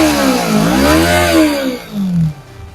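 A 2022 Modenas Kawasaki Z250 ABS naked motorcycle engine fires up close and loud, its revs swelling and falling in a smooth climbing-then-dropping sweep before settling and fading.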